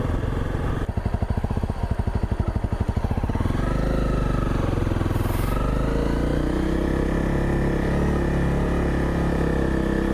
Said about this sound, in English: This is steep for the Grom.